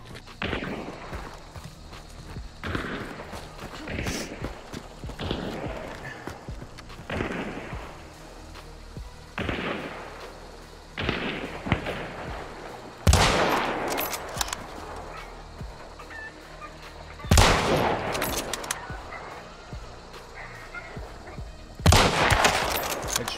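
Shotgun gunfire in a video game from a player camping inside a building, sounding as sharp loud blasts every few seconds, with the heaviest shots near the end.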